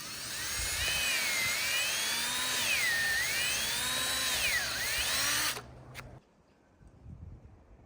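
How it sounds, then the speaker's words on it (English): A cordless drill with a 5/16 bit bores a tap hole into a maple tree, its whine rising and falling with load for about five seconds before stopping abruptly, followed by quiet outdoor rustling. "So we'll drill the hole."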